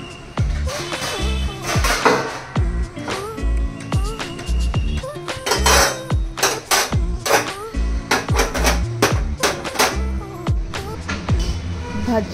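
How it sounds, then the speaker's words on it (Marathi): Washed steel pots, pans and utensils being stacked and put away in a home kitchen, a long run of sharp clanks and clatters, some ringing, close and irregular, with occasional quiet talk. "त्याआधी मी घासलेली सर्व भांडी लावून घेते"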